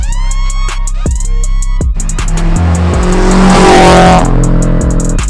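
Several cars, including a 2018 Subaru BRZ, rev hard and race past, engines climbing through gears with loud rising whines and tire squeals, close and continuous with no talk.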